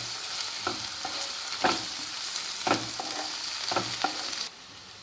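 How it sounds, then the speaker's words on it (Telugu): Onions and ginger-garlic paste frying in a pan make a constant sizzle, broken by several rhythmic scraping stirs of a spoon against the pan, then fading quieter at the end. "ఉల్లిపాయలు అల్లం వెల్లుల్లి పేస్ట్ బాగా వేగిందండి"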